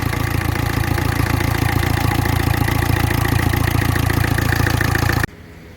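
A Ford Figo's engine runs at a steady idle after repair for engine knocking and an oil leak, a loud, close, even rumble with a rapid rhythmic pulse that cuts off abruptly near the end.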